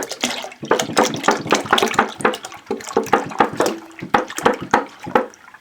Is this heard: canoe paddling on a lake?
no